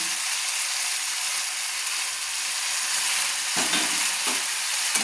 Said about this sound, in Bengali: দিয়ে ভালো করে আমি নেড়ে নিচ্ছি